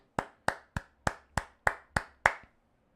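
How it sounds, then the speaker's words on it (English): One person claps eight times at an even pace, each crisp and close, then stops. "Can we give a round of applause for me?"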